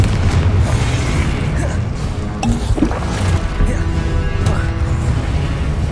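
Spell blasts and explosions from a Hogwarts Legacy fight, a dense, loud rumbling barrage of booms and impacts with continuous game effects layered throughout.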